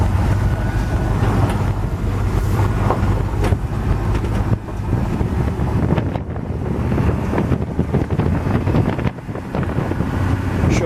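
Steady, loud wind roar buffets the microphone while driving a 1959 GMC Apache Fleetside pickup, with low engine and road rumble underneath throughout and no talking.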